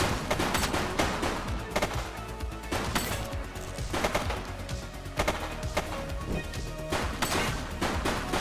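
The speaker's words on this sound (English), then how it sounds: "He's shooting!" Gunfire in the video game The Precinct, a dense, continuous barrage of sharp cracks and rapid bursts that stays loud throughout, with overlapping shots and impacts and no pause.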